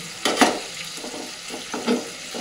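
Fish fry in a wide nonstick kadai with a steady sizzle, and two louder scraping clatters come as the pieces are turned over.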